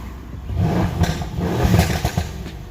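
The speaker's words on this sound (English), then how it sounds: "car's idling properly" A Mercedes C63 with the M177 V8 runs after a spark plug change, a deep, loud engine rumble with slight revving swells and some clattery texture, close to the car.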